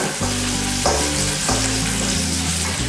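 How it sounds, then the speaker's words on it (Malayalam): Chopped green chillies fry with soya chunks in a pan for a dry roast, a close, dense, steady sizzle broken by scraping stirs, with no talking. "ഇനി ഇതിലേക്ക് കുറച്ച് പച്ചമുളക് ചെറുതായിട്ട് അരിഞ്ഞത് ചേർത്ത് കൊടുക്കുന്നുണ്ട്."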